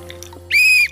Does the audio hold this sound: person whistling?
yes